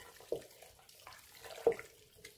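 Water, about one and a half litres, is poured into a cooking pot of vegetables for berkoukech, giving a faint close splashing with a couple of brief sloshes, no talk.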